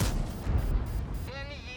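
A tank cannon fires in a tank battle video game, a heavy booming blast filling the whole short moment with rumbling low end, with a voice faintly underneath near the end.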